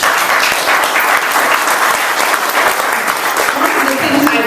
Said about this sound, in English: it's a big round of applause